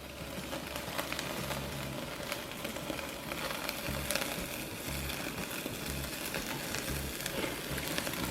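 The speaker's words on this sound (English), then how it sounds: "Give it a good sear all around." Rack of lamb sears on a barbecue grill with a steady, close sizzle and crackle of frying fat, continuous and even throughout, with no voices.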